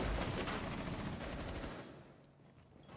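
Rapid automatic gunfire from a Rainbow Six Siege match, a dense, loud burst of shots that dominates the first couple of seconds and then trails off into fainter rattling.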